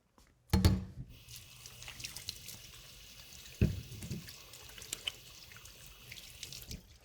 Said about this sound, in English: just give my hands a quick wash